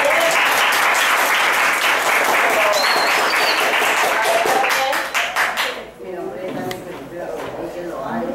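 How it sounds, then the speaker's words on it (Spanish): Applause breaks out in a classroom after a student presentation on drawing the human figure, dense and loud clapping for about five seconds before dropping off into scattered claps and voices. "Un aplauso."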